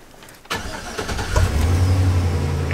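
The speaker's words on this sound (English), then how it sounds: "Okay, hit the ignition." A van engine cranks and catches after the ignition is turned, a sharp start followed by a steady low idle that settles and holds, close by.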